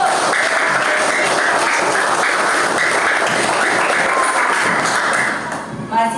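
Children in an Indonesian fourth-grade religion classroom clap together, a dense steady burst of hand claps lasting several seconds close by, fading out at the end with a few thumps.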